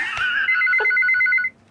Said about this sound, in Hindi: जब फोन की घंटी बजेगी